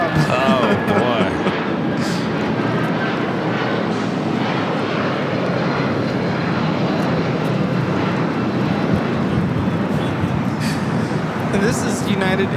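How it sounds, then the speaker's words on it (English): A United Airlines Boeing 757-200 takes off at LAX bound for Houston, its jet engines a loud, continuous broadband roar close by, with voices faintly mixed in. "And this is United Airlines 2069 taking off to Houston Intercontinental on a 757-200"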